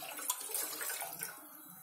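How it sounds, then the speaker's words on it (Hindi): Water is poured from a cup into a pot on a gas stove while making green tea, giving a steady close splashing pour with no talk. "इसमें मैंने जो पानी लिया है एक कप वो डाल दीजिए।"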